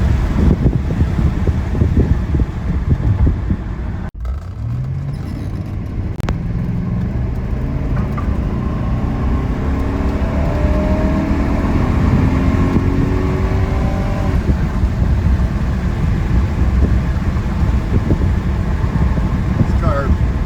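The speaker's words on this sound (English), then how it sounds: "This car, big car, but it's fast. It gets up and moves." A 1976 Mercedes 450SE drives and accelerates, its engine rising in pitch through the middle as it gets moving, with steady road and wind rumble underneath throughout.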